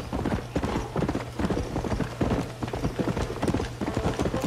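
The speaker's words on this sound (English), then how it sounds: "Yeah, horse, go faster." Horse hooves clop in a steady, rapid galloping rhythm in the Red Dead Redemption video game, loud and continuous, with a faint whinny and no clear talk over it.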